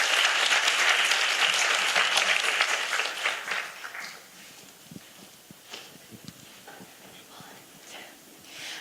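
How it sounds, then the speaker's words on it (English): An audience at a talk concert applauds for a school team coming on stage, a full burst of clapping for about four seconds that thins into scattered claps and faint footsteps. "Please welcome them with a big round of applause."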